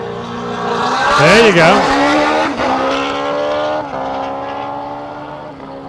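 A race car makes a single autocross run at Portland International Raceway, its engine roaring loud and near as it revs up and down through gear changes, with a brief voice over the top.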